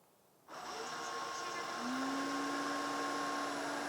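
A Midea V12 robot vacuum cleaner's fan starts up in standard mode, a sudden airy whoosh that settles into a steady whine, with its pitch rising and holding as the motor comes up to speed.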